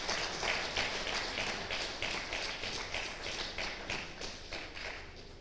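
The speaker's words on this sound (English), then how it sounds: "Can we give another round of applause for Professor?" Steady, dense applause from a lecture audience at a memorial lecture, many hands clapping continuously and fairly evenly throughout, with no voices standing out.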